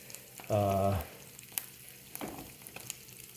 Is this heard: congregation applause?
no